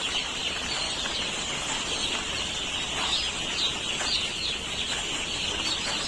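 Young poultry chicks in a brooding farm, a steady bed of high chirping and peeping that fills the space evenly, with no talk over it.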